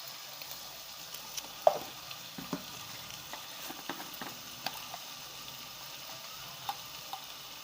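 Vegetables for pav bhaji sautéing in a pan, a soft steady sizzle with occasional faint clinks and stirring scrapes, fairly quiet and close.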